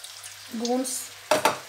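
Spiced masala with water added frying in a pan for potato keema, a short sizzle and stir with a brief louder splash near the end.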